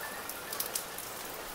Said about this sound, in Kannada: ಬಟ್ ಜೋರಾಗಿ ಮಳೆ ಬರ್ತಿದೆ.